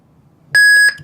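A CL3G alarm unit's reset gives a loud, steady electronic beep for about a third of a second, followed by a short fainter blip, with near silence before it.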